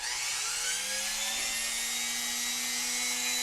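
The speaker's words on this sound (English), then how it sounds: "The rubber burrs here really work good for this process of finishing up your" A rotary tool fitted with rubber burrs sands and polishes a metal Celtic cross pendant, giving a steady, loud high-pitched whine whose pitch rises slightly as it spins up, close and with no talking.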